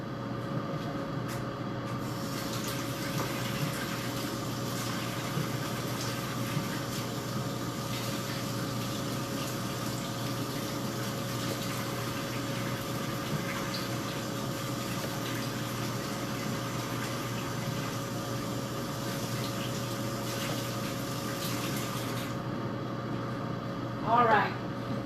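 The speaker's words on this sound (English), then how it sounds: "let me wash my hands real quick." A steady rush of running tap water goes on continuously at moderate level, with faint splashing and a brief clatter near the end.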